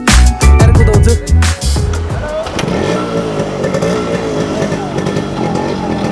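A restored Yamaha RX-100 two-stroke motorcycle revs hard in loud, choppy bursts, then settles into a steadier running drone with engine noise throughout.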